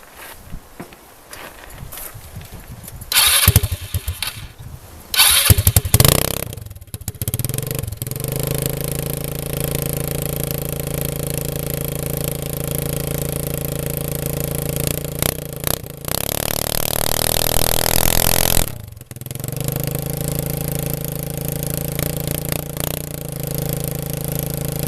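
A muffler-less engine runs loud and raw, idling with a steady harmonic drone and revving up several times, including a sustained high rev near the middle, with no talk over it.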